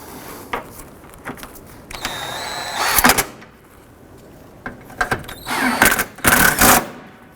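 Bolts on a 2007-2011 Honda Civic radiator fan are tightened with a tool in short, close mechanical bursts: one burst near the middle and a longer cluster toward the end, with quiet gaps between.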